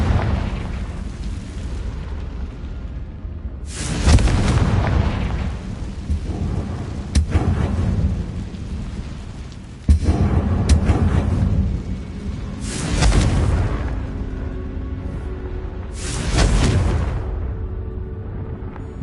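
Repeated booming blasts of the Confringo fire spell in Hogwarts Legacy, four or five heavy bursts spaced a few seconds apart over a rumbling game ambience, each swelling loud then fading.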